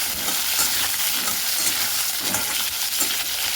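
Potatoes frying in hot oil in a wok give a steady, dense sizzle that crackles evenly throughout, close and moderately loud with no voices.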